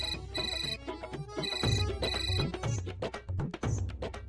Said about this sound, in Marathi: अहो भैया उचला की फोन.